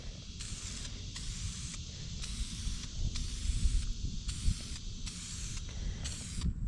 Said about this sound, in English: Test spray.